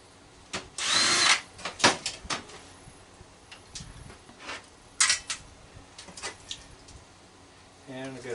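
Short metallic clicks and scrapes come from Torx screws being worked loose on a microwave magnetron, close and intermittent, with a few sharper clatters.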